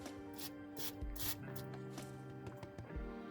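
Aerosol penetrating spray hisses onto muffler bolts in short close bursts, several quick sprays separated by brief pauses.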